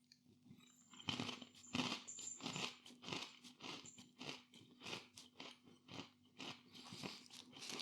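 Close, crisp crunching of Wotsits That's Nuts cheese and peanut coated snacks being chewed, with a steady run of sharp bites and crackles in a quiet room.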